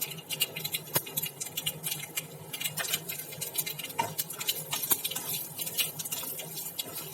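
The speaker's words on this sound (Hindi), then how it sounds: "ये देखिए, सरसों तड़कने लगी है।" Mustard seeds crackling and popping in hot oil, a dense, close spatter of sharp little pops going steadily throughout with no talk.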